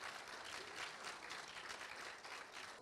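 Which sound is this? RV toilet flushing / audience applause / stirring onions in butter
audience applause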